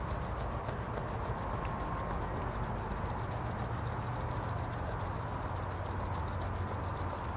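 Two palms rubbing briskly together to warm up during a tai chi self-massage routine, a steady continuous swishing friction that is close and fairly loud, with no talking.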